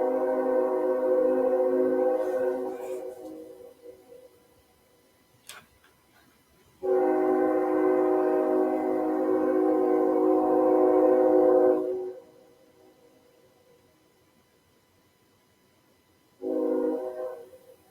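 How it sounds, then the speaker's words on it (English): A freight train passing through a small town sounds its horn in long, loud, sustained blasts: one fading, a second lasting about five seconds, then a shorter third, with quieter rail rumble between. "Loud ass train."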